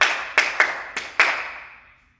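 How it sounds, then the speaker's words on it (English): Hands clap a tap dance rhythm in a dance class, five sharp claps in an uneven pattern with a ringing room tail, close and alone. "clap it with me, one more time,"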